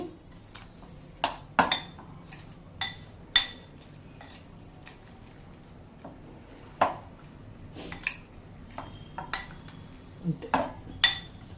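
Mango pickle being mixed in a vessel with a spoon, giving scattered sharp metallic clinks and scrapes of spoon against the vessel, irregular and fairly close, with soft wet squishing between strikes.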